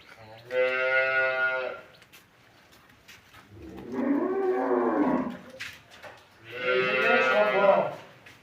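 Buffalo cattle at a livestock sale, three long, loud, close moos spaced a couple of seconds apart, with faint talk in the gaps.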